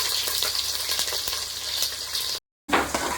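Onions frying in oil with cloves, cardamom, cinnamon and chillies for chicken pulusu, a loud continuous close sizzle with faint stirring, briefly cut out near the end, no talk.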